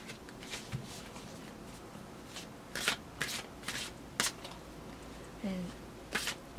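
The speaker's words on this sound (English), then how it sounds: "while I'm shuffling the card, I will repeat the question" Tarot cards being shuffled by hand, soft riffling and repeated crisp flicks and snaps in irregular bursts, close and fairly quiet against a faint background.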